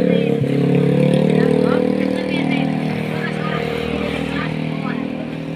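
Motorcycles passing at a bus travel ticket stop, loud engine drone swelling and fading as vehicles go by, with people talking over the traffic.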